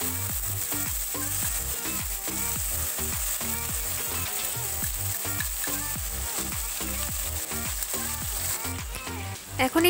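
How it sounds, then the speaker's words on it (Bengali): Paste of onion, garlic and small tomatoes hitting hot oil for a Bengali pabda fish curry, crackling in a loud, thick sizzle with rhythmic stirring scrapes throughout, close by and with no speech. "সেই পেস্টটাই আমি এখানে এখন তেলে দিয়ে দিচ্ছি।"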